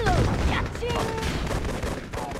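Rapid bursts of gunfire hammer an ore miner in the Red Alert 2 strategy game, dense and continuous over a busy battle mix with faint game voices.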